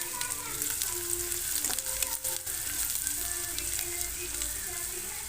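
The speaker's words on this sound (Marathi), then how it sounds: "कच्चा कांदा राहायला की गोड लागत नाही भाजी, म्हणून आता चांगला परतून घ्यायचं" Onions sauté in a pan for a chicken curry, making a continuous moderate sizzle with intermittent stirring scrapes and clinks. The frying sounds close by and carries on without talk.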